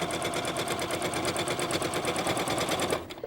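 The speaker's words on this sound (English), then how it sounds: "start to learn how to use a sewing machine and to try it" A sewing machine runs steadily at speed, its rapid needle clatter forming a continuous mechanical drone that cuts off just before the end.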